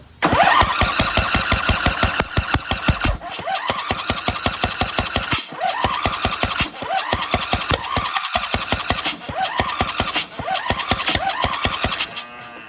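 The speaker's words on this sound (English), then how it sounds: "So it just seems like this one wants to light off, but I almost feel like the timing is off." A Craftsman DLT2000 lawn tractor's Briggs V-twin engine cranks repeatedly, the starter chugging in rapid rhythmic bursts with short pauses, sputtering as if trying to catch but never starting, loud and close.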